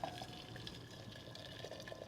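Boiling water pours into a tea kettle in a steady, quiet trickle, with a few splashy bursts at the start and a faint tonal ring. No one talks over it.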